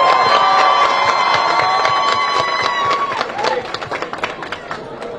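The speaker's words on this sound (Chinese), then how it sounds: "请各位帮我给教练一个最热烈的掌声可以吗" Crowd applause and cheering for a coach at a press event welcoming home Olympic athletes, a dense, loud wash of clapping that thins toward the end, with voices mixed in.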